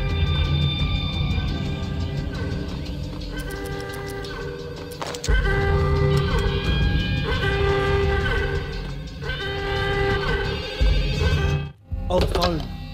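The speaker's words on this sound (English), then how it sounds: "Oh, the phone." An old telephone bell rings repeatedly in the Max Payne video game, in regular bursts over a rumbling background, with a voice speaking partway through.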